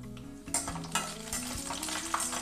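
Cashews and raisins fry in hot ghee for rava kesari, a soft continuous sizzle with a few light spoon stirs and taps against the pan, quiet and close with no talking.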